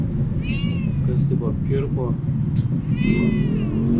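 A kitten gives a few high, thin meows, close by, while a person talks over them.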